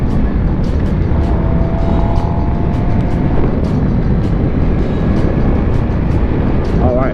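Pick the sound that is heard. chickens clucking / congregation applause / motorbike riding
motorbike riding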